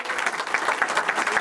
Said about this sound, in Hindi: ऐसे इस शख्स के लिए इस मंच से जोरदार हार्दिक अभिनंदन, तालियों से आप सम्मान देंगे।